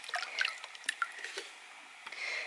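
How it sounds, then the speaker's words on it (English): Ground enamel is rinsed in a small vessel of water: light drips, trickles and soft sloshing swirls, close and faint, in short irregular bursts. "So I'm going to do one rinse, being careful that I don't lose my enamel."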